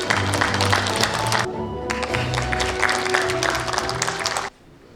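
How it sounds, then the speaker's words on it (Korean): Applause at a Gyeongsangbuk-do ceremony marking the 107th anniversary of the founding of the Korean Provisional Government greets the next speaker: a dense, steady clapping crowd over background music that stops abruptly near the end. "박수로 맞이해 주십시오"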